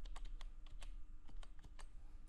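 A password is typed on a computer keyboard while a local phpMyAdmin database user is set up: about a dozen quick, crisp keystrokes in an irregular burst, close and clear with no talk.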